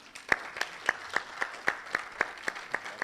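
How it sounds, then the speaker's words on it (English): A workshop audience applauds to welcome a speaker. Rhythmic, evenly spaced claps come through at moderate distance and fairly soft, as if most of the crowd is clapping in unison. "With a big round of applause, let's welcome Benjamin Kofi Kwanzaa."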